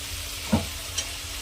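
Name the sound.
frying food in a pan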